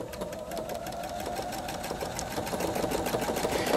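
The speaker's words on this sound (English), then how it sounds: "Once you have that lined up, just start sewing." A Pfaff Creative 3.0 sewing machine stitches steadily, its motor humming with a fast, even needle rhythm that carries through the whole stretch at a constant close level.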